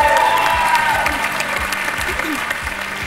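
Studio audience of a French TV game show applauding a singer, a brief steady burst of clapping with a low musical tone underneath.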